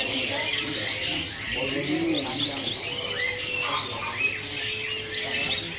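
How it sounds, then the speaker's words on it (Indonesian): A pelanduk semak babbler calls in a bird kiosk, giving scattered high chirps and warbles, mid-distance and moderately loud, while other caged birds call and a voice murmurs faintly. "Ini ada burung pelanduk semak."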